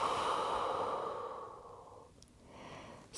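A long, soft exhale during a yin yoga child's pose at home, breath audible close up and gradually fading, followed by a quieter breath and a brief sniff at the end.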